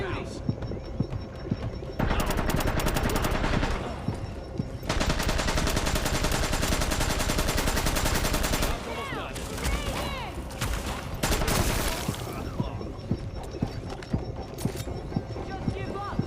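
Automatic gunfire rattles in long sustained bursts during a Division underground expansion fight, loud rapid volleys broken by short pauses and scattered single shots, with players talking over the action.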